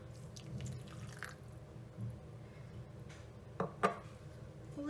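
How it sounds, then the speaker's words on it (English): Milk is poured little by little into basbousa batter, giving soft liquid trickling and a couple of brief splashy drips near the end, quiet against a low room hum. "Now just pour in your milk."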